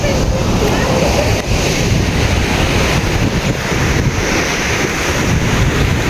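Strong wind buffets the microphone continuously by the sea in Daet, with surf and open water noise roaring loudly underneath for the whole stretch.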